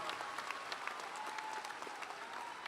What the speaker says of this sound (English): Let's give our faculty a shout out and a round of applause.